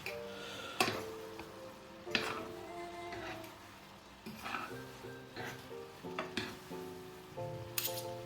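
Spaghetti carbonara with parmesan is stirred in a pan, soft sizzling under a series of clinks and scrapes of a utensil against the pan at an uneven pace.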